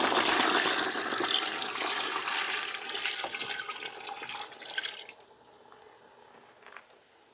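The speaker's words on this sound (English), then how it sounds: "Now I add water" Water pours from a tap into a pot of simmering pork feet, a strong rushing splash that gradually eases and thins to a quieter trickle.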